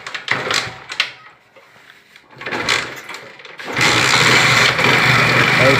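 A motorcycle with a small capacitor fitted in place of its battery: a few clicks and short cranking bursts, then the engine catches and settles into a steady, fairly loud idle.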